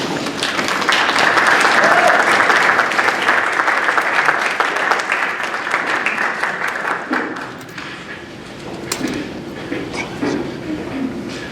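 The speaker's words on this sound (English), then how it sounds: "You can clap for them, it's all right." An audience at a school senior project community night breaks into loud applause that gradually thins into scattered claps, with a few voices and cheers mixed in.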